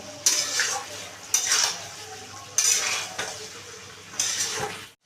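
Chicken curry meat sizzles in a pan while a utensil stirs it, giving four distinct scraping bursts over a soft, steady frying hiss, close by and without speech.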